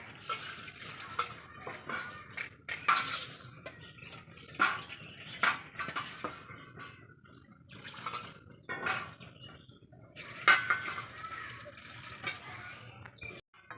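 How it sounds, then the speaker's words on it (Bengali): Masoor dal lentils being washed in a pot of water: intermittent splashes, swishes and clinks of grains and utensil against the pot, close and moderately quiet, with brief drips between. "মসুরির ডালটা আমি এখন ধুয়ে নেব"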